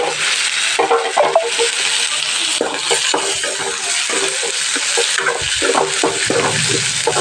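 Dry curry leaves sizzle and crackle steadily in a hot pan while being stirred, with scraping and clinking of a spoon against the pan throughout, close and fairly loud, no talking.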